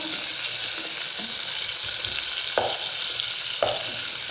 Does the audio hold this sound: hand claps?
no